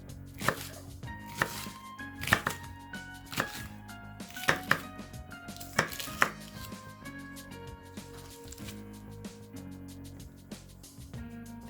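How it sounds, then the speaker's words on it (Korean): Knife slicing the green part of a Korean leek diagonally on a cutting board, a series of crisp chopping knocks in an uneven rhythm, close and fairly quiet. "대파의 푸른 부분을 어슷 썰어 주시고요"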